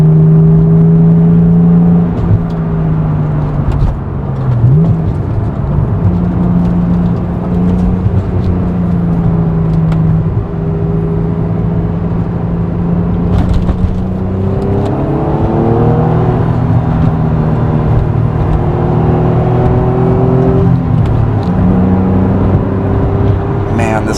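Honda NSX sports car engine droning steadily while driving a road near Kalutna Lake, with rising and falling pitch as it accelerates and shifts, continuous and close throughout.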